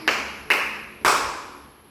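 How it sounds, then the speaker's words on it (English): Three sharp, evenly spaced claps in a classroom, each ringing out with a long reverberant tail, with no talking. "give yourself a round of applause"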